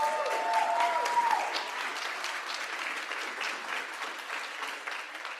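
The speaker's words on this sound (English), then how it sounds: "Let's give these world champions a round of applause." An audience at a school district board meeting applauds world champions with steady, sustained clapping that fills the room at moderate volume, and a brief tone is heard near the start.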